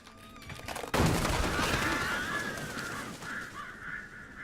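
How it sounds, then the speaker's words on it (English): Ghost crows in the video game Alan Wake: a sudden blast gives way to a thick, noisy rush carrying repeated harsh, echoing caws that carry on steadily to the end. "So those are ghost crows that can just kind of morph through a door."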